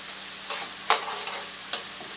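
Fries frying in a pan on very high heat, turned with tongs as they crisp and brown, give a steady close sizzle with a few sharp clicks of the tongs against the pan.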